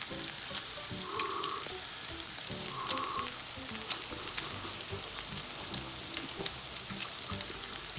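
Pork and mushrooms sizzling and frying in a pan at a Korean barbecue meal, a steady close crackle with scattered sharp pops of fat throughout.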